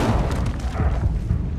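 A fire spell is cast in the Hogwarts Legacy video game: a dense, low booming burst with a rushing roar that stays loud and full for its whole short length, with no talking.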